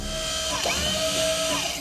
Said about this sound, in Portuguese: Vamos ter que abrir a cabeça dele. Furadeira.